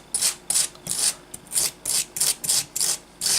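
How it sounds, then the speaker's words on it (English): A wire brush scrubs a plastic tree block on a Tamiya mid-production Tiger tank model in about nine quick, evenly spaced bristly strokes, crisp, hissy and close. "look at our wire brush"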